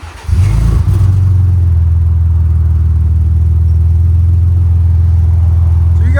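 A Ford Raptor EcoBoost starts and settles into a steady, quiet idle with its exhaust valves closed, a low, clean, even drone close to the microphone with no revving.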